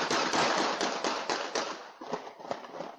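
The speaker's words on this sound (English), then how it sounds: "you hear the first series of gunshots and see people scrambling for safety" Gunshots from a shootout caught on a Ring security camera in Houston, a rapid series of sharp cracks fired in quick bursts, loud and harsh, trailing off into scattered shots.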